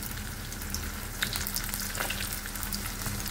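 Green chillies sizzle and fry steadily in hot oil with curry leaves and dried red chillies for tamarind rice, a continuous close crackle with small pops and no talking.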